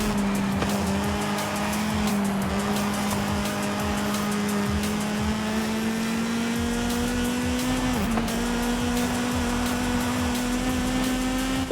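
Racing cars in the video game Forza Horizon 5, a Nissan Silvia and a Mercedes among them, hold a steady engine drone with one rising pitch line throughout, plus a brief tire-squeal dip near the end, loud and constant with no talk.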